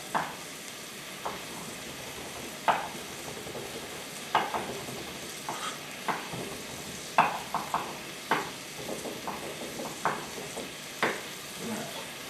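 Garlic sizzles in a pot with a steady frying hiss, while a spoon stirs it, knocking and scraping against the pot at a loose, regular pace of about one stroke per second, close and fairly quiet.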